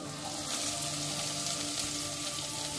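Garlic, ginger and green chillies fry in hot oil, giving a steady hiss and crackle that stays close and even for a short stretch, with no talking.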